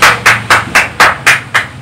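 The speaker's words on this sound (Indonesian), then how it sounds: "Kita tepuk tangan." A classroom group of children claps hands together in unison, seven sharp, evenly spaced bursts in a steady rhythm, loud and close, with no talking.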